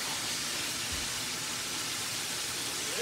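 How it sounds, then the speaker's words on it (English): Steady broadband hiss of chicken frying in oil, a continuous sizzle with no talking, loud and close throughout. "Like when it sizzle like that,"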